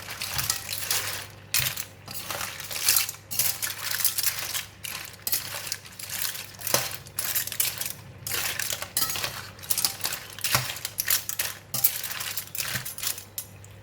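Clams stir-fried with chili, basil leaves and red curry paste in a pan, stirred with a metal utensil that clinks and scrapes in frequent sharp hits over steady sizzling, close and fairly loud, with no talking.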